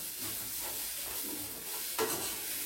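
Oil poured into a pan for frying idiyappam gives a faint, even hiss with soft crackle and one brief clatter midway.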